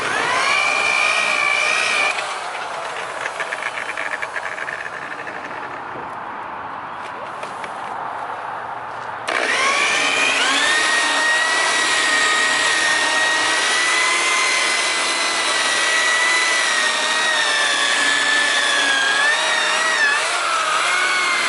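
Electric polisher buffing old, rust-spotted car paint on a front fender with 3M polish, a steady close whine running throughout, briefly dropping in pitch and load before returning at full speed.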